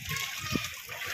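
Children splashing in floodwater that has filled a village yard after heavy rain, with close sloshing splashes mixed with children's voices in the background.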